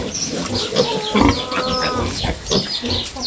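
Piglets from a sow's fresh litter on a village farm grunt and squeal in a dense, continuous chorus, close and fairly loud, with short sharp squeals rising over the steady grunting.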